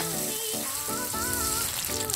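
A pot of rice noodle soup bubbles and sizzles steadily on the stove, a continuous hiss with soft popping throughout, close by.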